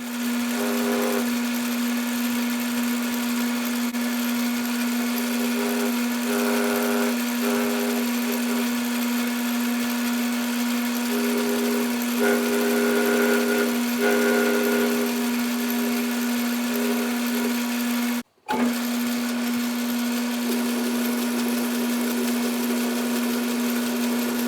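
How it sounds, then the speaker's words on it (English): A metal lathe turns stock held in its chuck, giving a loud, steady motor hum with a constant tone. It carries on for the whole stretch, with only a brief dropout near the end. "We're at the lathe with the stock in the chuck."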